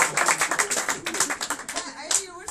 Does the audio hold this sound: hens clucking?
no